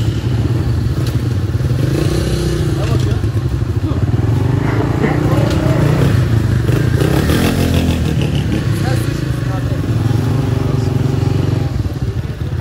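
A CG Time motorcycle engine revs loudly and close, rising and falling over a rough idle, with clatter and voices mixed in.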